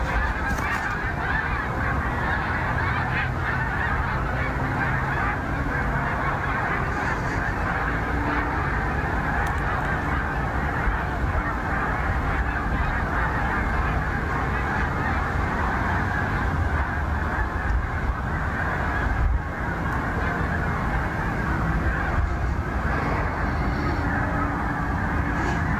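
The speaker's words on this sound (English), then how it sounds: "maybe we should follow the birds" A flock of geese flying overhead, their honking blending into a continuous noisy din that runs steadily for the whole stretch without a break.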